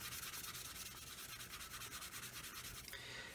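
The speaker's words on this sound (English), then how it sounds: "So 800 grit is polishing that" 800-grit abrasive is rubbed back and forth over the plastic of a Roden 1/144 C-141B Starlifter scale model, a close, steady, rhythmic sanding scratch with quick repeated strokes. No one speaks over it.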